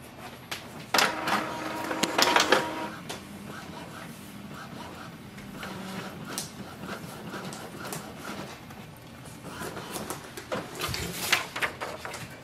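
Epson WF-2850 inkjet printer running a nozzle check page, with steady mechanical whirring, clicks and thumps of the paper feed and print head moving back and forth, close and moderately quiet.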